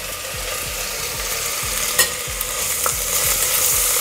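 Slit green chillies, curry leaves and a little salt fry in a pan with a constant close sizzle, broken by a few scraping stirs.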